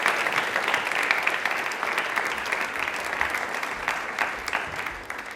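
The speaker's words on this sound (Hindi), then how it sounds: "एक बार तालियों से इनका स्वागत करेंगे" A studio audience on a Doordarshan Rajasthan quiz programme applauds to welcome a guest, dense steady clapping from many hands that holds evenly for several seconds before easing slightly at the end.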